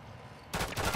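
A burst of rapid gunfire breaks out in Call of Duty: Modern Warfare III after a quiet moment, loud and fast-paced with no talking.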